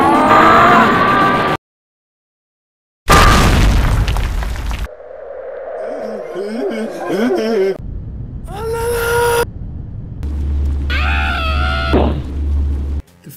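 Staff of Ra weapon firing in the NES game Nightshade: loud chiptune blasts and squealing synthesized effects in rapid bursts, broken by a brief silence, with game music and effects running throughout.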